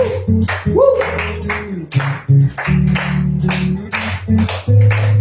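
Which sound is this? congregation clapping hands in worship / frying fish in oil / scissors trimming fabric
congregation clapping hands in worship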